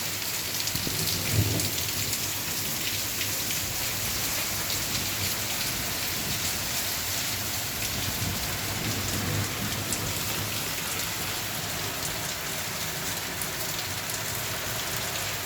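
Steady heavy night rain pours throughout in Mota Mandva, with low rumbles of thunder rolling underneath, loudest near the start and again around the middle.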